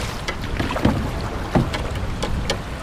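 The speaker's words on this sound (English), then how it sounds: "the wind has really picked up" Strong wind buffets a kayak or canoe during a cold-weather paddle on open water, with steady broadband rushing and a few splashy paddle-stroke bursts near the microphone.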